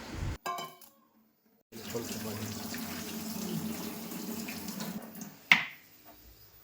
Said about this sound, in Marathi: हे छोले मी काल रात्री भिजवायला घातले होते, हे आता सॉफ्ट झाले आहेत, तर यांना एकदा परत धुवून घेऊया